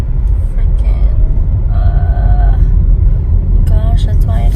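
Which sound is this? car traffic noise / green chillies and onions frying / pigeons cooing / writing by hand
car traffic noise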